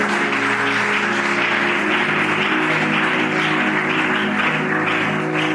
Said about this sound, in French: Tu peux applaudir pour que j'avance